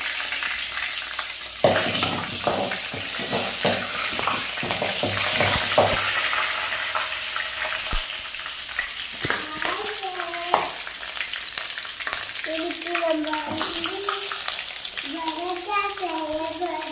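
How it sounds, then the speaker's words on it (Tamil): Pepper, cumin and cinnamon roasting in a pan for a potato gravy, a bright continuous crackling sizzle with stirring scrapes, close and loud, while someone talks over parts of it. "மிளகு ஜீரகம், அப்புறம் இந்த பட்டை இதெல்லாம் போட்டு நல்லா வறுத்துக்கணும்."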